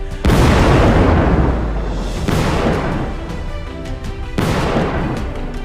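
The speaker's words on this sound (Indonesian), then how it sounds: "Ledakan dahsyat mengguncang kota, puing beterbangan ke udara." Huge cinematic explosion effects: three massive booms with long rumbling tails, each striking suddenly and decaying into a roaring wash, loud and up close with no voices.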